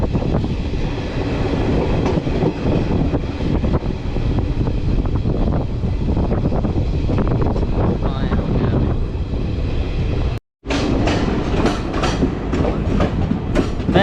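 Haldibari Kolkata Superfast Intercity Express running through Barsoi Junction without stopping, a loud steady roar of wheels and carriages with clickety-clack and wind buffeting, briefly cut out near the end before the rumble resumes.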